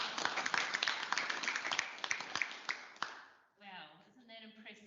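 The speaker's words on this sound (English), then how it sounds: "so we'd like to give you a round of applause in your team" At a Far North District Council infrastructure committee meeting, a room gives a modest round of scattered, close clapping for about three seconds before it stops and a person begins speaking.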